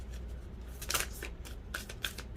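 Soft, steady riffling of a deck of cards being shuffled, quiet and close, with a few crisper snaps as the cards fall together.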